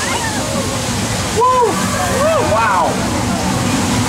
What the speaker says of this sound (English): Watch out, there's a flash flood coming right for us.